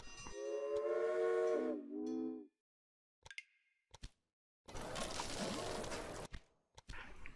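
Trains in the Railway Empire video game: a loud two-tone train whistle sounds for over two seconds, then after a pause comes a rushing rumble of rolling railcars, with scattered clicks and knocks between.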